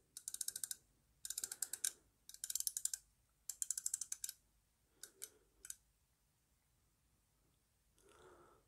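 Largaz Emperor Tuna dive watch bezel turned by hand, giving quick runs of crisp ratcheting clicks in four bursts and then two short ones, close up and quiet with no talking.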